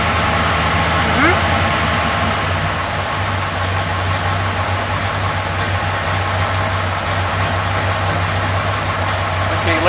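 A 1963 Chevrolet Corvette Sting Ray engine idles just after start-up, a loud steady low rumble with a constant throb and no change in pace, while voices talk over it.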